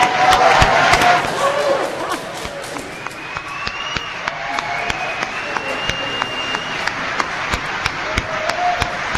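Audience applause in Melbourne, a dense wash of clapping with scattered sharp claps that swells early and then carries on steadily at a moderate level.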